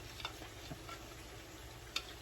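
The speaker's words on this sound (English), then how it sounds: "till then the chicken is also frying" Steady frying sizzle of chicken in a pan for chili chicken, with faint crackles and a couple of light clinks, close by, no voices.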